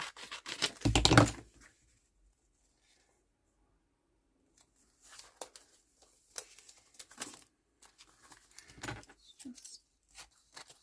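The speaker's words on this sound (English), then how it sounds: "I'll have to use my scissors, I think." Scissors snipping a strip of paper while tidying the edge of a junk journal page, a few short crisp bursts of cutting alone at close range after a brief louder handling noise.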